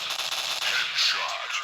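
Rapid bursts of gunfire crackle in quick succession, loud and dense, with a faint voice underneath.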